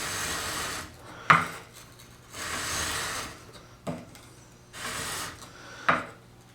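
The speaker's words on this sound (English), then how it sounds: "we're just pinching the grind against the sandpaper, and then we're going to just draw back" Scandi-ground knife blade pinched flat and drawn back across sandpaper, three separate long gritty rasping strokes, each beginning with a sharp scrape, close and fairly loud, with quiet gaps between passes.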